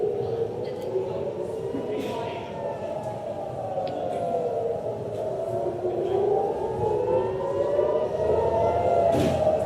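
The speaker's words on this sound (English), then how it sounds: "You're hearing the sirens." Air raid sirens over Tel Aviv during a missile attack wail and rise and fall slowly in long overlapping sweeps, steady and fairly loud, with faint voices and scattered noises beneath.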